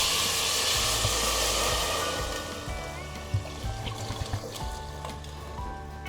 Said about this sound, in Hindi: अब डालेंगे इसमें 3 लीटर पानी।